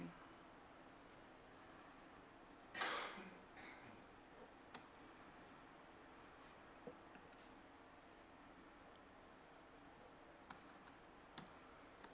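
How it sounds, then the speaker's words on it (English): Quiet, scattered key clicks on a computer keyboard: one louder burst of clattering keystrokes near the start, then sparse single taps spread out over a faint room hiss, with no talking. "I must be typing something"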